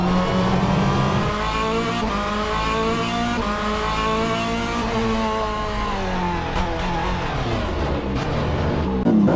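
A hypercar's engine roars on board in a sim racing video game at Road America, a loud continuous howl rising and falling through gear changes, with brief tyre squeals, no talking.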